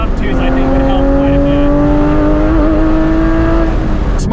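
A Porsche GT4 or C8 Z06 sports car engine holds a loud, steady high-RPM howl that rises slightly in pitch as it corners, close and continuous from start to finish.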